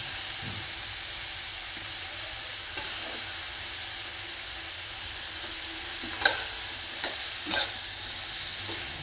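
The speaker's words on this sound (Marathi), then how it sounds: "वांगे पण छान मसाल्यात परतून घ्यायचे आहेत आधी।" Eggplant pieces sauté in spiced masala in a pan, giving a continuous close sizzle with occasional scraping stirs and soft clinks, with no voices.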